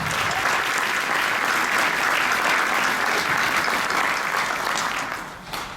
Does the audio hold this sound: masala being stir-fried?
no